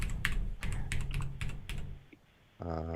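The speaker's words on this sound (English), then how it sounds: "start typing Joshua Bardwell" Rapid, close clicking of keys on a computer keyboard, typed in irregular bursts for about two seconds, then a brief pause before a short voiced sound at the end.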